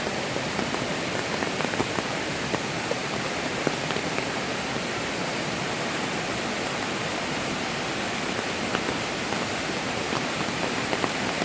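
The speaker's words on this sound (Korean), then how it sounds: "지금 현재 비가 며칠 동안 와가지고" Heavy steady rush of rain and falling water at a mountain waterfall on Jirisan after days of rain, a dense constant hiss with scattered drop ticks, loud and close throughout.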